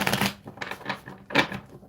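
Tarot cards being shuffled in a few quick rustling bursts, close and fairly loud, with a short pause before a final flurry; no voices.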